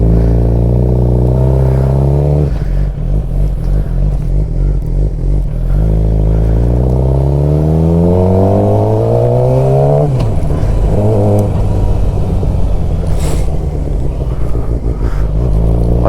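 A Suzuki GSXR 600 K7 sport motorcycle is ridden on the road. The engine climbs through the gears with rising whine, drops on each shift, then revs hard again, loud and close throughout.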